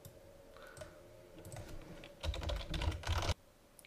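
Computer keyboard typing while entering iCloud account details: light scattered keystrokes at first, then two dense, louder bursts of rapid clicking, close and alone without talk.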